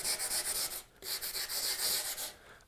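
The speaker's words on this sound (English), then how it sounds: "Card file cleans them out nicely." A card file is scrubbed across the clogged teeth of a coarse rasp loaded with aluminum, making quick, close, rhythmic scraping strokes in two fast runs with a brief pause between.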